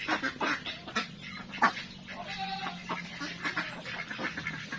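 Several Pekin ducks quack in bursts at close range on a rural provincial farm, overlapping calls coming repeatedly with a faint high whistle-like tone in the background and no talking.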